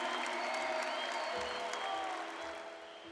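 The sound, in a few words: audience applauding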